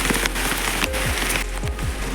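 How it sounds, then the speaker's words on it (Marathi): Steady rain pours down close by, a dense, loud hiss of drops hitting surfaces with no voices. "मस्त पाऊस पडतोय थंडगार वातावरण झालंय"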